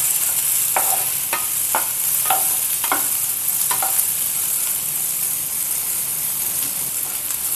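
Bitter gourd stir-frying in oil with a little water hisses steadily and brightly, with a series of sharp spatula scrapes and taps in the first half.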